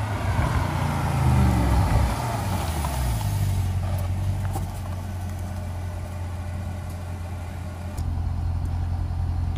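A Mercedes CL63 AMG with its resonator deleted blips its engine once early on, then drops to a steady, loud, throaty idle rumble from close by, with a second slight rise near the end.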